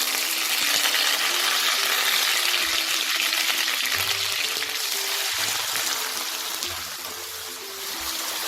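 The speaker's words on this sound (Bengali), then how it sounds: "পেঁয়াজটা আমি খুব ভালো করে ভেজে নেব" Onion paste frying in hot oil with whole spices for a Bengali mutton kosha, a steady close sizzle with faint stirring and scraping throughout.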